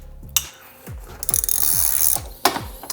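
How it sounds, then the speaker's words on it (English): A hand ratchet loosens slave cylinder bolts on a Honda Civic Type R, giving a series of close, distinct clicking strokes with short pauses between them and a brief metallic clink, with no talk. "So you're just gonna loosen those 2 bolts"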